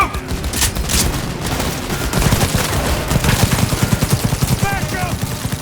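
Bursts of automatic gunfire rattle in the video game Cyberpunk 2077, dense overlapping shots building into a rapid rhythmic volley, with a shouted voice mixed in.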